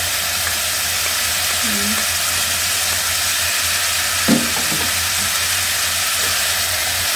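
Diced potatoes sizzling as they are stirred into a soup pot with carrots, a loud continuous frying hiss with one brief clatter of the spoon partway through.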